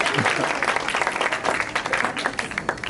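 Audience at a stand-up comedy show applauding and cheering, a dense wash of clapping with a few shouts rising and falling over three seconds at moderate volume.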